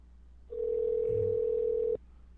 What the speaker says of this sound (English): I'm trying to get Julia on the phone.